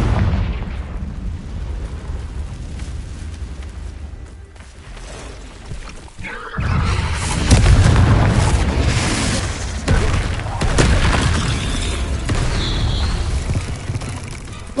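Blasts from the Confringo fire spell in Hogwarts Legacy, a deep booming explosion swelling midway and rumbling on loudly, with a quieter hissing lead-in before the burst.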